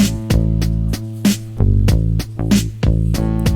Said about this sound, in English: we're coming in here with just the keys, the bass and the drums